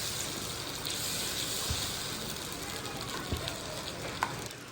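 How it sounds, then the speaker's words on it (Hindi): Tomato paste being stirred into onions in a pan for chicken kofta, a steady close sizzle and fry hiss throughout with a few soft scrapes of mixing. "टमाटरों को भी हम अच्छे से मिक्स कर लेंगे।"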